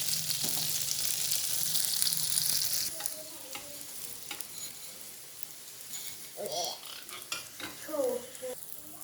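Egg paratha frying in ghee or butter, a steady sizzle that is strong at first and then softens, with scattered clatter from a spatula or pan and a few brief sounds near the end.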